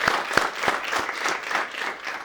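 A television studio audience claps for the Mese Show, a brisk burst of applause with a few distinct louder claps at the start before it settles into an even patter.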